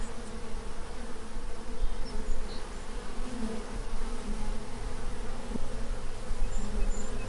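Bees buzz continuously around flowers, a dense, steady droning hum up close with individual insects drifting nearer and farther, no voices.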